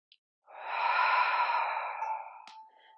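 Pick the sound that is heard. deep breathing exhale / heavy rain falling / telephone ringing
deep breathing exhale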